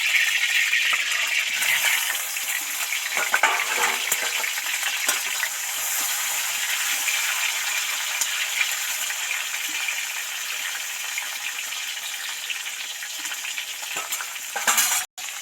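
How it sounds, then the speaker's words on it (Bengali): Eggplant slices frying in hot oil in a pan for a meatless Bengali cauliflower-potato dish, a steady dense sizzle that stays loud and even throughout, with a few faint clinks near the end. "বন্ধুরা ওদিকে তো বেগুন ভাজতে দিয়ে দিয়েছি"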